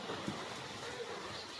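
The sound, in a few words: heavy rain with wind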